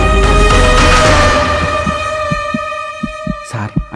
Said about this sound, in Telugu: అది నా గుండె చప్పుడు రా.